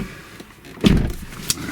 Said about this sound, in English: let that door close.